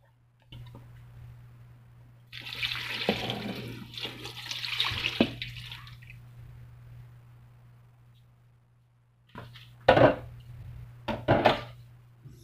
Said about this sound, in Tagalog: Tapos lagyan ng tubig.